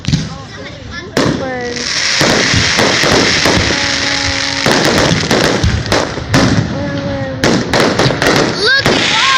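Fireworks exploding nearby, with a rapid crackle of sharp bangs and pops over a loud rushing hiss, a few whistling rising tones, and people talking and calling out in the background.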